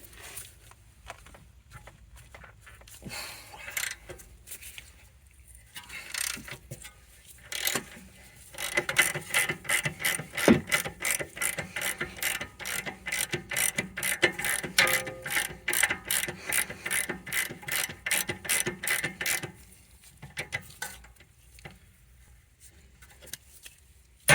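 Rapid ratchet clicking from a 3/8-inch ratchet with an 18mm socket turning a rusty bolt on the rear upper suspension arm of a BMW E90/E91, steady bursts of close, even clicks with short pauses between them.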